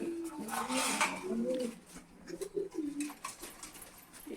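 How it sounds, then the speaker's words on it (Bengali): Soft pigeon cooing in low repeated warbles, fairly close, with a brief rustle and some clatter in the background. "এ হচ্ছে আরেক জোড়া কবুতর"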